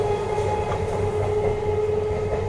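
A loud train rumbles steadily past near a home kitchen, a continuous heavy roar with a sustained tonal whine and faint clatter throughout, no voices.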